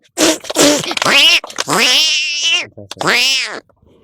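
A person mimics two cats fighting with a string of loud, close, wavering yowls and snarling meows in quick bursts, the voice imitating the animals.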